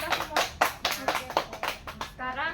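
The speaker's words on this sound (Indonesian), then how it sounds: "Tepuk tangan dulu untuk kita semua" Scattered hand claps from a small classroom group celebrate a student presentation, a quick uneven run of nearby claps before a voice begins speaking at the end.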